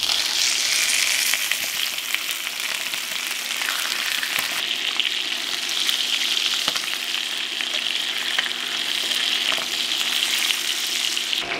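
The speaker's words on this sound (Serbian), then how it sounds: "spuštam piletinu i pržimo je dok ne porumeni sa svih strana" Chicken pieces fry in melted butter in a pan, giving a loud, steady sizzle that runs unbroken from start to finish with faint bubbling crackle and no voices.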